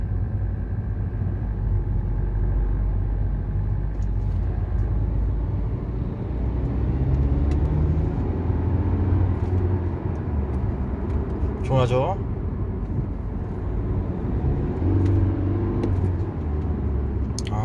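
BMW 320d diesel on a test drive after repair of a chronic noise under acceleration, a steady cabin rumble of engine and road noise building gently, with someone speaking briefly over it.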